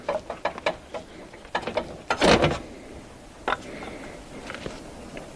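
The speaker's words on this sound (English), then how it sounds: "So now I'm gonna remove this coil." An ignition coil is pulled out of a Honda Pilot engine. Short clicks and plastic-and-metal rattles come in bursts, with one louder scraping clunk midway, close and sharp, then quieter taps.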